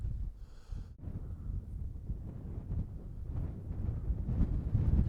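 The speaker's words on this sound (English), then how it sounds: "It's a little windy up here." Steady wind buffets the microphone high on a mountain summit at around 11,700 feet in the Snowy Range, a continuous low rumble with gusts swelling toward the end.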